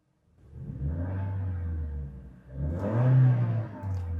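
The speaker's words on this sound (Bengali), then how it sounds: "আপনারা গাড়িটার ইঞ্জিনের সাউন্ড শুনতে পেয়েছেন, কতটা স্মুথ এই ইঞ্জিন এখনো আছে।" A 2020 Toyota Hiace Super GL van engine idles with a steady low rumble, swelling once as it revs briefly before settling back to a smooth hum.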